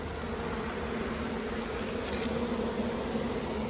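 Honeybees in a beehive on a mild late-February day buzz in a dense, continuous hum, close and steady throughout with no voices.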